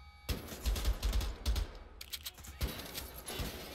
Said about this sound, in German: Wo schießen die alle hin, ey?